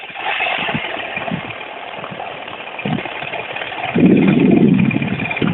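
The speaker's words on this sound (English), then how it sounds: "This motor is louder than the Moster, but it's got a lot of power for a 130cc motor." A 130cc paramotor engine runs close by with a buzzy, steady drone. Its note shifts slightly, then swells louder near the end. No speech is heard over the engine.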